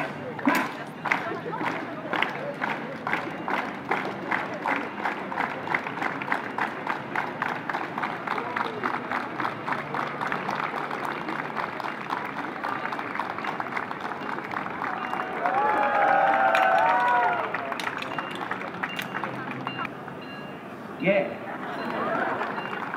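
A street crowd at a knife-juggling show in Leicester Square claps along in a steady, even rhythm throughout, with cheers and a voice calling out over the clapping.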